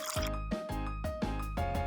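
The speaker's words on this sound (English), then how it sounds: "Add a little water, time, mix." Water poured and mixed into dough while making tong jyun in a cooking game, giving repeated wet squishing and dripping strokes roughly every half second over a steady background tone.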